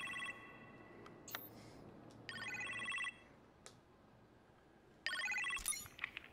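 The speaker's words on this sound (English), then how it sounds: "You appear to have a phone call in the kitchen" An electronic telephone in a video game rings in short repeated bursts with gaps between, fairly quiet, with a few faint clicks in the background.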